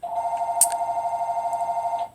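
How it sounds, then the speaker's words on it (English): A telephone rings in the background, a steady warbling electronic trill with rapid pulsing that runs unbroken for about two seconds and then stops. "Sorry about the phone in the background."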